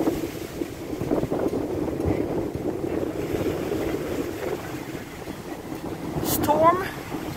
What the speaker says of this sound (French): And I'm sorry for the wind.